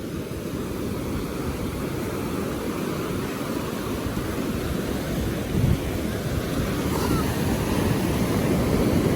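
Steady, broad rumble of surf rolling in at Mypadu Beach, a constant roar with wind buffeting the microphone throughout.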